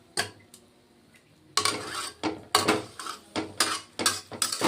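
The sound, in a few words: covering a cooking pot with a lid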